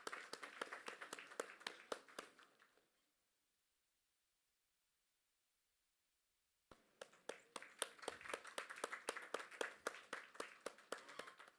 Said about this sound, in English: Big round of applause for Pathan, sir.